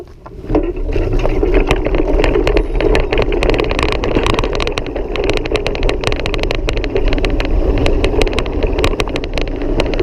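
A vintage electric scrambler motorcycle climbs a path outdoors, making a steady, loud drive noise buffeted by wind, with scattered crunches and ticks from the ground throughout.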